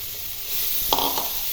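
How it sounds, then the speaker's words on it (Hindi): Boiled dal poured into a pan of sizzling fried onions for Bihari dal puri, a steady hiss that swells into a brief louder surge of bubbling as the lentils hit the hot fat. "अब हम इसमें जो अपनी बॉईल की हुई दाल थी वो डाल देंगे"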